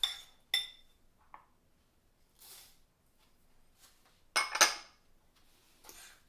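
Oats clinking and scraping against a mixing bowl as they are stirred into vegan cookie dough, with a few sharp knocks and scattered scrapes between quiet pauses.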